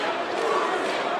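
Dense boxing arena crowd at a heavyweight title fight in Ukraine's favor, a steady roar of massed voices chanting continuously, loud and close, with no break.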